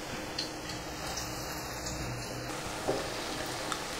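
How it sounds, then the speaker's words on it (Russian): Soft, steady sizzling of potato patties frying over moderate heat in a pan, a continuous crackle with occasional faint ticks, no voices. "Обжариваю с двух сторон до золотистой корочки на умеренном огне"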